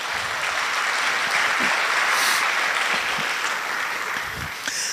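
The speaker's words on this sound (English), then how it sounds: "let's give all our presenters a round of applause" Steady, moderately loud clapping fills the room as a conference audience applauds the presenters at a data science and artificial intelligence event, with no speech over it.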